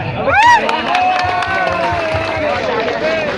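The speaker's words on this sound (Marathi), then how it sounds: "त्यासाठी एक वेळा जोरदार टाळ्या." Crowd at a creator meetup in Nagpur cheering and clapping: a lively mix of shouts, whistles and claps with loud voices over the top, close and energetic throughout.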